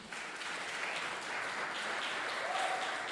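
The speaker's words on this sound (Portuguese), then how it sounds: "Alguém pode aplaudir a Jesus?" A church congregation applauds in praise of Jesus during a sermon, a dense, even wash of many hands clapping together, steady and unbroken throughout.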